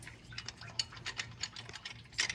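Ratchet clicking while a belt tensioner is removed from the engine of a 2001 GMC Sierra 2500 pickup during a water pump replacement: a quiet run of irregular, close mechanical ticks with a sharper burst near the end.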